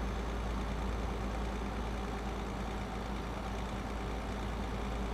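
In the Euro Truck Simulator 2 driving game, a heavy truck hauling 22 tonnes of pallets on French roads gives a steady, dense low engine drone with constant road noise and no speech.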